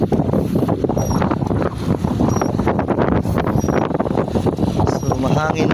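Strong wind roars across open sea near a fishing boat, with continuous buffeting gusts that hit the microphone loudly and drown out everything else.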